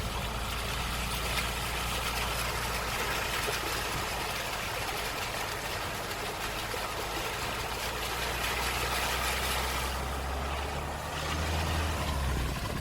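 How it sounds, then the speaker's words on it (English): A vehicle creeps slowly through a flooded road near Mullumbimby, its low steady engine drone continuous and fairly loud, with a broad wash of water noise throughout and a slight swell near the end. "We slowly made our way through after watching another vehicle make it across."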